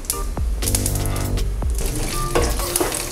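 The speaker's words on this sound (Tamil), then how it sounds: "கடுகு பொரிய ஆரம்பிக்குது" Mustard seeds, cumin and peanuts crackle and sizzle in hot oil, with a few sharp pops over a steady frying hiss, close and fairly loud.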